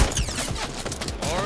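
SMG gunfire in the video game Fortnite, a dense, loud stretch of rapid shots layered with game effects, brief and continuous.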